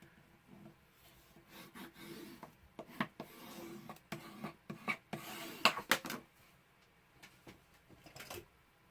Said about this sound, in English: I'm going to grab my bone folder, and I am just going to burnish that a little bit to make sure it's really stuck down